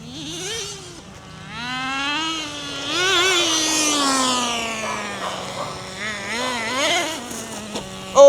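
A Traxxas Nitro Rustler RC truck's small nitro engine screams loudly, its pitch rising and falling as it revs and races past, with a brief sharp spike at the end.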